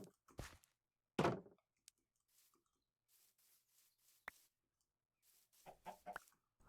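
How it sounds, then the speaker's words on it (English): Minecraft chickens clucking in a short burst of soft, scattered clucks, with a couple of thunky hits and faint bits of game noise between them. No one speaks. "There's the other chicken over here."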